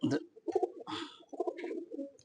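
Pigeon cooing close by inside a loft, a run of soft throaty coos in short uneven bursts with some rustling, faint overall.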